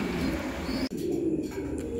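Red checker pigeons cooing softly in a loft or market, low continuous murmuring coos with a brief sharp click midway and faint chirps nearby.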